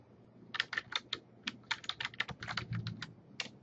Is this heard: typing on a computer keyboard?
yes